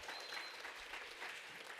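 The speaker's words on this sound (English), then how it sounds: "Clapping is the same in English and Spanish." A school event audience applauding, a faint, even wash of many hands clapping that holds steady throughout.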